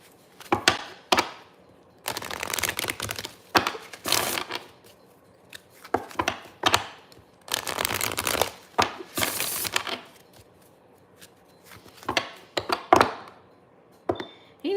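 Tarot cards riffle and slap in repeated bursts, a crisp papery shuffling that starts and stops several times, close up with no talking.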